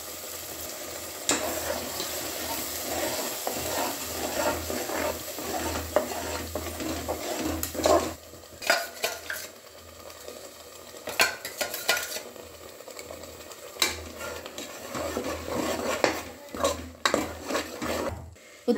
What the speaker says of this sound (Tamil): எண்ணெயில் நல்லா வதக்கிக்கலாம்.